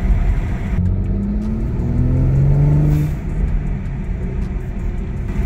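A BMW with a B58 engine fitted with an aftermarket blow-off valve and upgraded charge pipe revs loudly and close, rising tones climbing over a steady rumble before easing off, with no talking.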